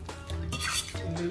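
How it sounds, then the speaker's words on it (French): A spoon stirs fretins with sorrel in a pot, making a short run of soft scraping and scattered clinks at close range, fairly quiet, with no talking. "Je mélange."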